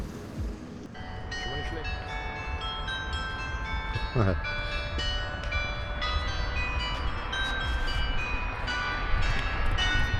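The town hall glockenspiel in Emden rings out a run of clear, overlapping bell tones over steady outdoor harbour-town noise, with voices nearby.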